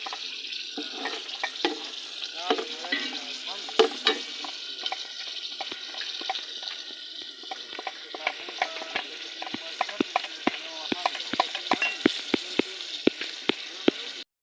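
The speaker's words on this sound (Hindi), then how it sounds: "और ये अभी चावल पका रहे हैं।" Rice being cooked and stirred in a large pot for biryani, a wet sizzling bubble with repeated sharp scraping and knocking strokes of a spoon against metal, close and steady, quickening toward the end.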